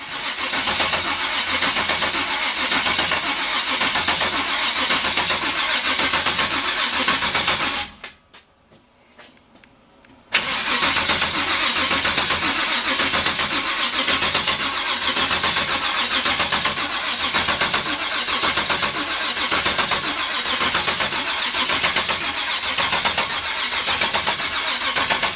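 A 383 stroker V8 cranks with a steady rhythmic chug, pauses briefly, then cranks again in a long, loud, even sequence without talk.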